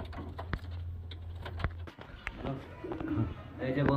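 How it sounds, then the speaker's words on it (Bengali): High-quality flying pigeons being packed for delivery coo intermittently in low murmurs, with some shuffling and a person talking over them. "দেখতে পাচ্ছেন কোয়ালিটি পায়রা"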